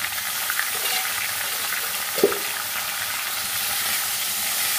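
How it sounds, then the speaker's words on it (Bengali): Young jackfruit frying over high gas flame in a pan, a steady broadband sizzle and hiss throughout with one brief stirring clatter near the middle. "এটাকে গ্যাস বাড়িয়েই ভালো করে ভাজবো"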